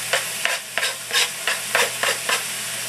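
Sausages and onions brown in a pan with a close, steady sizzle punctuated by about nine regular spatula stirs that each swell the frying hiss.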